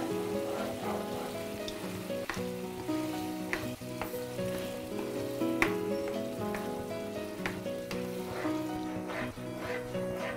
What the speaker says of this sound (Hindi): बस अब इसके साथ साथ हम कंडेंस मिल्क डालेंगे और इसको हिलाते रहेंगे लगातार।